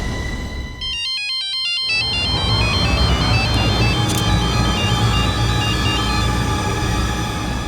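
A phone ringtone plays loudly, a quick warbling electronic melody that repeats, with steady background noise throughout.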